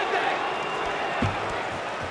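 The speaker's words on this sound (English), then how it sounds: "The crowd rallying behind George St. Pierre." A crowd at a mixed martial arts event roars in support of a fighter, a steady wash of cheering and applause with commentary voices over it.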